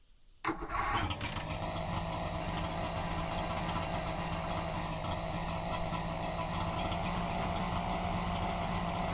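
A small two-stroke engine in The Long Drive catches after a brief cranking burst, then settles into a steady, buzzy running drone that continues evenly to the end, with no talking.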